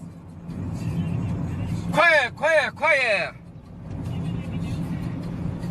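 A car's steady engine drone hums under the ride, low and constant throughout, while a voice calls out loudly twice in the middle.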